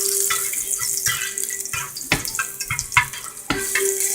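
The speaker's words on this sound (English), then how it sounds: "now that we got our oil nice and heated up, throw in our garlic there" Garlic dropped into heated oil for a lamb dish crackles and sizzles steadily in a pan, a dense continuous hiss with scattered pops and a few louder clatters of stirring, close and fairly loud, with no talking.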